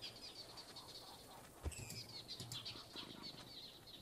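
Wings of an eared quetzal flap in the Minecraft Sonorama mod, a steady soft whir of wingbeats with a sharper flutter burst midway, faint chirps over a quiet game background.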